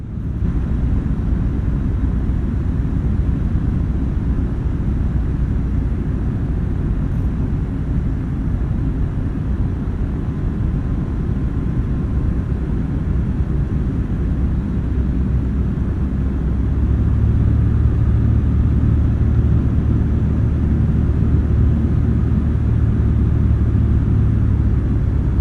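A light aircraft on a solo cross-country flight comes in to land on runway 25, its engine a loud, steady, close rumble heard from the cockpit throughout, swelling slightly toward the end, with no talking.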